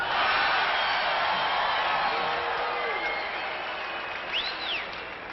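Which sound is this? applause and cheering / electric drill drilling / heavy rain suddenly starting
applause and cheering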